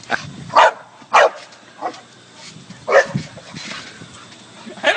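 A dog barks in sharp, separate bursts, roughly five loud yaps spread unevenly over a few seconds, fairly close, with faint background noise between them.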